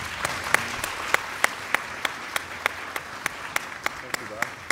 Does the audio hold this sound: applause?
yes